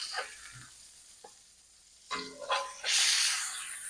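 Burger patties for loco moco crackling in a hot frying pan, faint sizzle at first, then louder bursts of hissing and spattering as they are lifted and moved.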